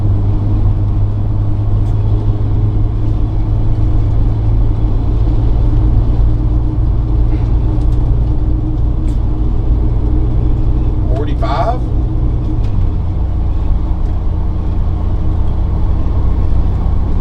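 A 1999 Winnebago Chieftain 36LP Class A diesel motorhome with a 275 Cummins engine accelerates while driving, giving a loud, steady low engine drone and road rumble that drops in pitch near the end, with someone talking over it.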